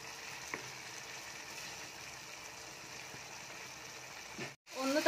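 Egg biryani gravy simmers in a covered pot, giving a steady, soft bubbling hiss that runs evenly before a brief dropout and a short clatter at the end.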